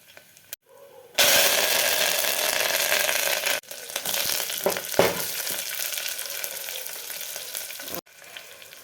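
Tempering seeds, onions and chillies crackle and sizzle loudly in hot oil for several seconds, with brief pauses and stirring clatter mixed into the dense frying hiss.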